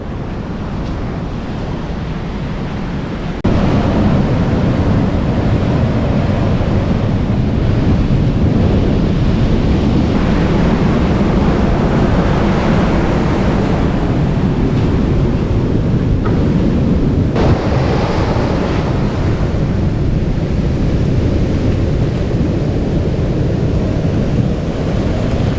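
Surf washes steadily onto a sandy beach beside rocks, a continuous broad roar of breaking waves that swells after the first few seconds, with gusts of wind buffeting the microphone throughout.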